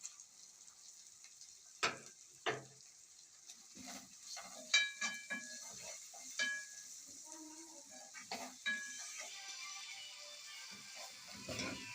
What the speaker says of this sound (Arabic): بعد ما البصلة اتشوحت معايا بالكبد والجوانص نزلت عليها بالكبدة